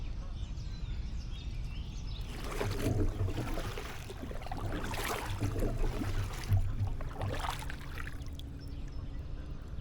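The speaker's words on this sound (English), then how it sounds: "If you watch my other videos, you're probably wondering why I'm paddling." A kayak is paddled on the Upper Chesapeake Bay during a fishing trip, with repeated splashing strokes and water pouring off the blade over a steady low rumble of wind or engine noise, no talking.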